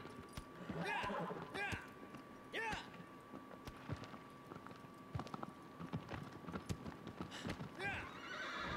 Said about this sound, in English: This horse is just gallivanting up these stairs.